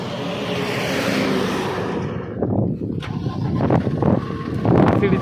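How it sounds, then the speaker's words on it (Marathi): A Mercedes car from Kerala passing by on the road: a loud engine and tyre rush that fades after a couple of seconds, followed by nearby traffic, a revving engine and people talking. "मर्सिडीजची गाडी आहे"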